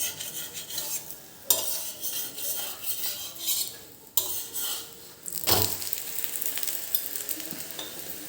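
Khata puda, a savory Gujarati pancake, sizzles in an oiled pan while a spatula scrapes and flips it, with steady frying hiss, metal scrapes and a few sharp clanks against the pan.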